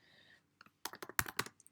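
Typing on a computer keyboard: a quick run of close, crisp key clicks in an uneven rhythm after a brief low hum, fading to a few scattered taps.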